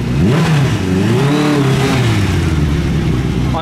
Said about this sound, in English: So a car was just revving